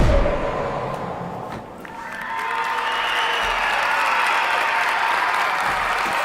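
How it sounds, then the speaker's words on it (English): An audience at a live magic gameshow claps for a performer, a dense wash of applause that dips briefly then swells back and carries on steadily to the end. "please clap your hands"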